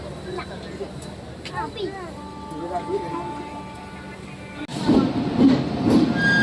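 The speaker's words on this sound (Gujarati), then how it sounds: "તો ટ્રેન આવી ગઈ છે" The Bhuj Express train rumbles and clatters nearby, arriving at a station in Ahmedabad and growing louder toward the end, while people talk close by.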